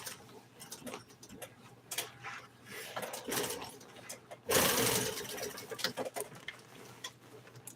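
A sewing machine stitches upholstery on a 1955 Chevy seat near a bead, heard as uneven bursts of ticking needle strokes that stop and start, with a louder stretch partway through.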